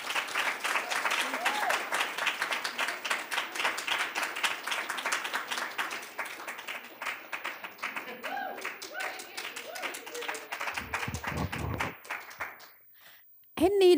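Audience at a literary reading applauding to welcome two speakers, sustained dense clapping lasting over ten seconds before tapering off, followed by a voice starting to speak.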